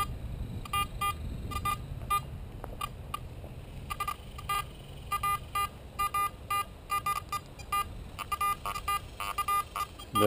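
An AT Gold or AT Pro metal detector sweeping over an iron target sounds repeated short electronic beeps in irregular bursts, grunting and chirping above a low, steady background rumble.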